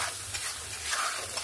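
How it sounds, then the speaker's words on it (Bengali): Ground spice paste stir-fries in a pan after onion and tomato, sizzling and hissing steadily while a spatula scrapes and stirs in an even rhythm, close and fairly loud, with no voices. "বেটে রাখা মশলাটা দিয়ে ভালো করে কষিয়ে নেব"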